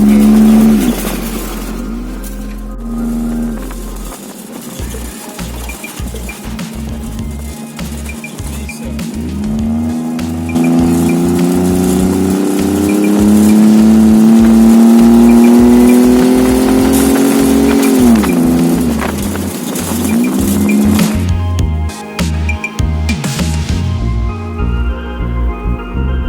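Car climbing mountain serpentine roads in Laos, the engine revving up and shifting through gears with a long rising whine, loud and close, settling and dropping off near the end.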